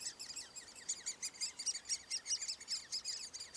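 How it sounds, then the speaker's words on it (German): Young woodpeckers in a tree nest hole give a rapid, continuous stream of high, thin squeaking calls, faint and somewhat distant, with no talk. "dann höre ich plötzlich dieses Fiepen in den Bäumen von den Jungen"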